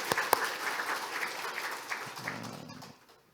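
A church congregation claps after a choir ensemble's praise song, a brief, moderately faint round of applause that thins out and stops within about three seconds.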